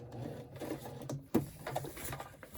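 A sewing machine stitching straight along a seam line on a scrappy journal cover, quiet uneven mechanical whirring and clicking with one sharper knock in the middle.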